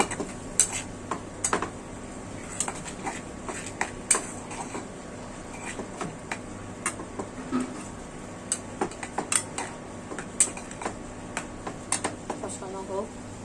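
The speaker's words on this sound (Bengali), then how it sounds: "কষানো হোক।" Shrimp with chili, turmeric and salt sautéed in a pot, with repeated sharp scrapes and clinks of a utensil against metal over a soft background sizzle, steady through the clip while a voice talks at times.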